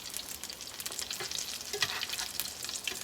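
Mac and cheese balls fry in a pan, giving a close, continuous crackling sizzle with scattered pops and spatters throughout.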